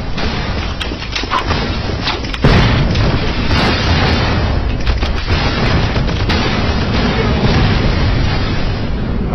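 Rocket launcher blasts in the shooter game Final Combat sound as loud, heavy booms and bursts, with a big explosion hitting near the middle and rumbling on amid continuous combat noise.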